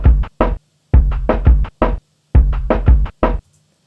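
Drum loop reduced to its low band and run through a heavy gate, producing loud, close, thumping bursts chopped abruptly into short blocks separated by dead silence in a stuttering rhythm, with no voices.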